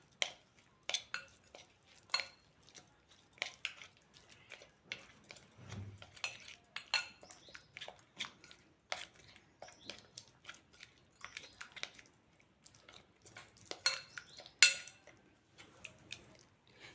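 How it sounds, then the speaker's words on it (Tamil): A paneer tikka marinade with lemon and salt is mixed in a bowl: faint, close, irregular spoon taps and soft scrapes, with a brief low thump partway through. "இப்போ இது எல்லாத்தையும் நம்ம நல்லா மிக்ஸ் பண்ணிப்போம்"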